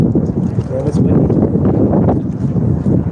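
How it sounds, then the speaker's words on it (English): Strong gusting wind buffets an outdoor microphone with a loud, continuous rumbling roar, while voices can be heard beneath it. "Yeah, that's windy."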